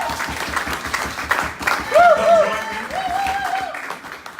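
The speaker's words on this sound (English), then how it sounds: "And the crowd goes wild." An audience applauds as a candidate is welcomed at a candidate interview event, with dense clapping throughout and voices calling out over it.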